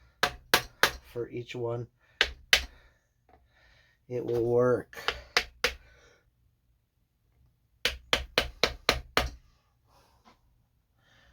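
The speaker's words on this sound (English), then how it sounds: "I'm just placing the handle of 1 hammer, rubber, and I'm just tapping it down" A rubber hammer's handle taps engine parts flush while a crankshaft is fitted into a Honda H22A4 engine for a Civic EK. Sharp, close knocks come in quick bursts of three to five strikes, with someone briefly talking between them.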